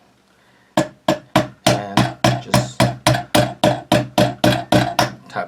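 A mallet taps a skinny punch to drive a pin out of a Tavor X95 bullpup rifle bolt or trigger assembly, about fifteen sharp, evenly spaced metallic knocks ringing briefly, close and loud, after a short spoken phrase.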